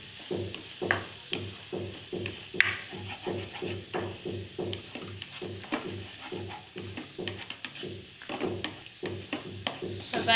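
Grated radish and egg stir-fry in a pan, with rhythmic scraping strokes of a spatula repeating steadily over a constant sizzle at close range.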